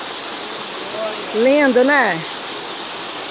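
Steady broadband rush of the Cachoeira Gonzaga waterfall fills the background throughout, as a nearby voice speaks briefly over it.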